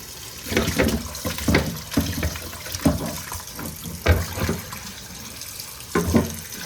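Tap water runs into a kitchen sink while raw chicken is rinsed, with uneven splashing and spattering bursts over a continuous low gush, close by and moderately quiet.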